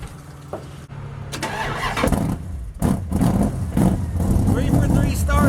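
A Mopar 440 engine in a drag truck cranks and fires up, settling into a loud, rough running rumble with uneven revs, close to the mic.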